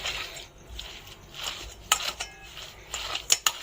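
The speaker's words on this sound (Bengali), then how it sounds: "ছানাটাকে মেখে নিচ্ছি, এভাবে মেখে নিতে হবে ভালো করে।" Chhana, a fresh cottage cheese, is kneaded by hand in a bowl, giving soft, close squishing and pressing with light scrapes and a few sharper clinks against the bowl, fairly quiet and steady, with no voices.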